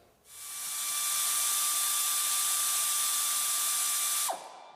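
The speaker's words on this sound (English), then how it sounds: "this is a ratchet that's got some power behind it" An AIRCAT 805-HT-22 long reach air ratchet, freshly oiled and hooked to an air line, runs in one steady, loud, hissing whine for about four seconds before spinning down abruptly.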